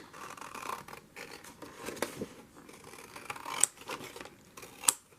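Scissors snip paper for a junk journal, giving quiet scattered cuts and rustles with a couple of sharper, brighter snips near the end, close by and without talk.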